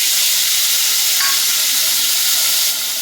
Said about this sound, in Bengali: এরপর আমি বাটা মশলাটা দিয়ে দিচ্ছি ওই যে আদা আদা আছে জিরে আছে আর কাঁচা লঙ্কা আছে যে পেস্ট করে রেখেছিলাম